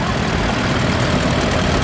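Vintage International diesel tractor engines in an arena parade at an agricultural show give off a loud, continuous, rough low rumble that stays steady and close throughout.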